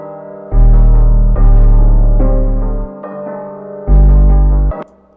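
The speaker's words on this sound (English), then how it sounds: "So obviously when I take it down an octave, it will sound like this." Deep, booming 808 bass notes played an octave lower in FL Studio, a few long sustained hits with a brief gap, heavy sub-bass with a slight melodic layer on top.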